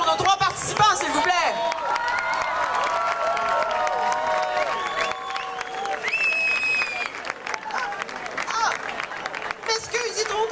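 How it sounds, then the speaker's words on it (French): Audience at an Elvis contest applauding the three participants, a dense burst of clapping and cheering from a sizeable crowd, loud and sustained, with voices and a sung or whistled tone rising over the din. "Une bonne main d'applaudissements pour nos 3 participants"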